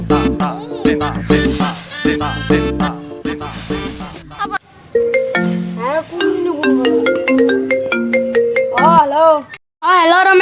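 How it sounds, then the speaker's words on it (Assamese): A phone ringtone plays while someone is being called, a bright melodic tune with repeating tones that runs loud for several seconds before cutting off, followed by a short burst of sound at the end. "ৰমেশকে ফোন কৰো"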